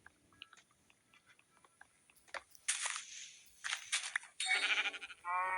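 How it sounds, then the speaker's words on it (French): Sheep bleating in Minecraft, a few short bleats rising late in the clip after quiet clicks and game noises, fairly faint and alone. "Un mouton."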